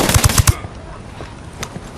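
Gunfire in Ghost Recon Wildlands, a rapid close burst of four sharp shots at the start followed by scattered fainter distant cracks and faint background sounds.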